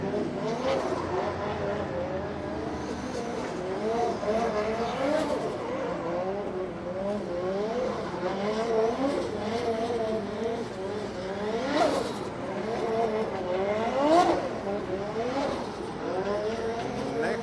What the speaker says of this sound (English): We have only one car in the burnout box, Karim Hani.